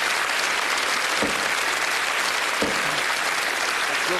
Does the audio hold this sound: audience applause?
yes